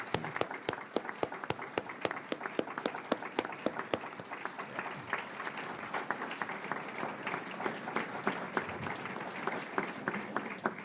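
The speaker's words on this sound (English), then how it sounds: "let's give them a big round of applause" Audience applause for grant writers at a state economic development grant announcement by the Ohio governor, a steady mix of many hands clapping with sharp individual claps standing out, sustained and moderately close throughout.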